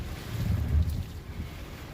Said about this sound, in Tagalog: tingnan nyo, ang lakas ng hangin